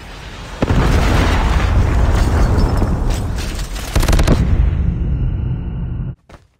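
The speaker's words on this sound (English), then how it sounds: "friendly predator missile inbound." A predator missile in Call of Duty Mobile explodes as one huge, loud, roaring blast close by. The rumble fills the air for several seconds with crackling debris, then cuts off abruptly.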